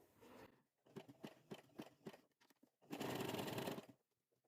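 A domestic sewing machine stitches a zigzag over cord while coiling a cord spiral for a square basket, with several short close bursts followed by a longer steady run, then it stops.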